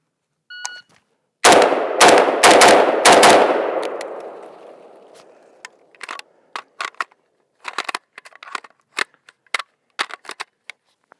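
Rifle shots from a Galil Ace in 5.45x39: a loud rapid string of several close shots with a long fading echo, followed by scattered clinks and clatter.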